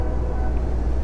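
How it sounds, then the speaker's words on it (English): A train passing near a home, heard as a brief steady low rumble in the background. "Oh, and there's the train."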